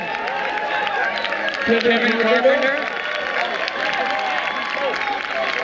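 A crowd at a high school 4x400 relay meet at Kennett High claps and cheers for the school principal, a steady wash of applause beneath an announcer talking over a PA.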